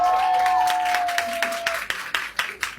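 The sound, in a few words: audience applauding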